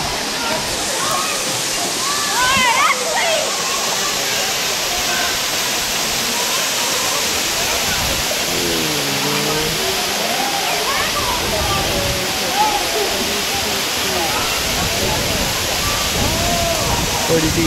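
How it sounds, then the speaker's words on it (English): A real waterfall on the North Shore roars steadily as a dense, continuous rush of water, loud and close for the whole stretch, with a few brief voices mixed in. "Alright, we're about to see the waterfall."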